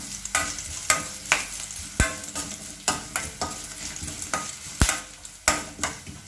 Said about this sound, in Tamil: எல்லாமே கொஞ்சம் செவக்கட்டும். அது வரைக்கும் நல்லா வறுத்துக்கோங்க